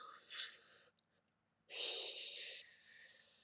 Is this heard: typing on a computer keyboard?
no